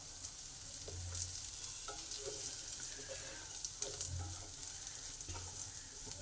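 Mixed vegetables (onion, ginger, beans, capsicum and carrot) salted and frying in a pan give off a constant close sizzle, broken by periodic scraping stirs of a utensil.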